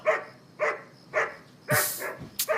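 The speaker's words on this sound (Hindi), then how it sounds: "अरे क्यों भौंक रहा है?" A dog named Happy barks at night in a series of sharp, close woofs, four evenly spaced barks followed by a quick double yelp, with no talking.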